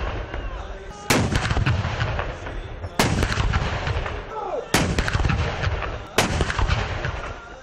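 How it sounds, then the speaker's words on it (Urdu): Four heavy artillery blasts from a 21-gun salute at the start of the day in a provincial capital garrison, each a loud booming report spaced about two seconds apart with rumbling echo trailing between shots. "صوبائی دارالحکومت میں دن کے آغاز پر 21 توپوں کی سلامی۔"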